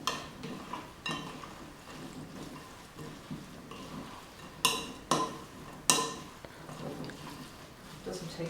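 Spirulina fruit and nut bar ingredients being mixed with warm water in a bowl, with soft wet stirring and scraping and a few sharper clinks of a utensil against the bowl, under a speaking voice.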